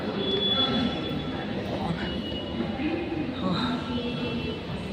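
A Bangalore metro train pulls into the station, a rumbling approach with faint squeals and hiss under crowd noise and people talking nearby.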